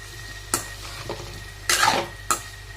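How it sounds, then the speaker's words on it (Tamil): Potatoes being stirred in an oiled pan for a potato fry, with three distinct scraping strokes of a spoon against the pan over a faint low sizzle, close and without speech. "இப்போ மெதுவாக வந்து இந்த மாதிரி மிக்ஸ் பண்ணி விடுங்க."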